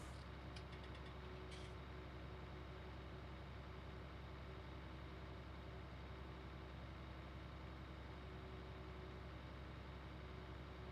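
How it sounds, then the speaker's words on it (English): A farm tractor in a farming game rolls downhill while its engine drones steadily, a constant low hum with a faint tonal whine that holds evenly throughout, with no talking. "our tractor's going to be picking up speed as we start to roll down the hill"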